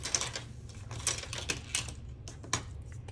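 Planner stickers being trimmed with scissors, a few crisp close snips and paper rustles at an uneven pace.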